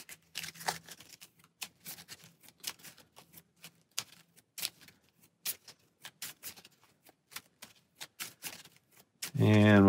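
Playing cards shuffled by hand during a tabletop session of the Arkham Horror card game, a long run of quick crisp riffles and snaps, close and fairly loud, with a brief burst of speech at the very end.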